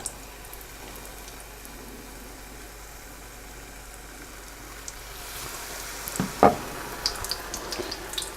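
Beer-battered onion rings deep frying in oil give a quiet, steady bubbling sizzle, with a few louder crackles and pops near the end as more rings go in.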